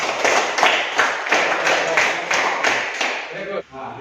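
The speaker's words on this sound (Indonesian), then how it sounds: "beri tepuk tangan kepada kelompok 2" A classroom group claps together in rhythmic bursts, a steady run of close, loud hand claps lasting several seconds before breaking off, with voices murmuring underneath.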